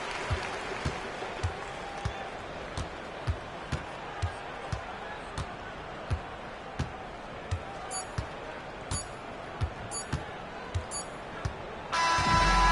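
Home fans fill an arena during a lopsided Atlanta basketball win, producing a steady wash of crowd noise and applause punctuated by regular, sharp ball-bounce thumps, with a louder surge near the end.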